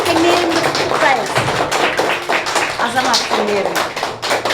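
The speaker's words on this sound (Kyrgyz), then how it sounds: "Кана кол чаап баарыбыз тең Мээримди куттуктайбыз." A classroom of students applauds a classmate who won first place in a literature olympiad, with dense, steady clapping from start to finish and voices talking over it.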